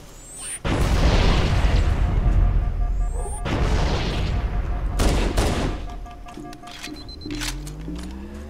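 A grenade explodes in the Halo CE campaign on Legendary difficulty, a loud boom with a long rumbling roar, followed by a second blast and gunfire, then a rising whine as it fades.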